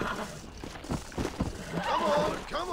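Breaking a wild horse in Red Dead Redemption: a near, shrill neigh rises over stamping hoofbeats, with a voice speaking briefly alongside.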